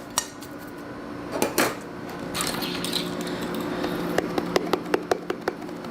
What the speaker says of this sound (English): Let me stir it up and see how it looks.